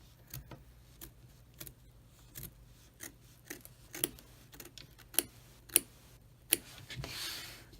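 Sharp scissors trim the fabric edge of an embroidered mug rug in a run of quiet, close, irregular snips, with no talking.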